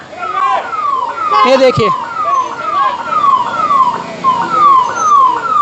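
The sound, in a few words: ambulance siren as it is given way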